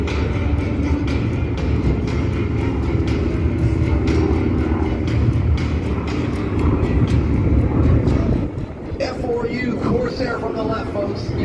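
A Douglas SBD Dauntless dive bomber flying at an airshow, a loud continuous propeller engine drone with crowd and wind noise, and an announcer talking over it.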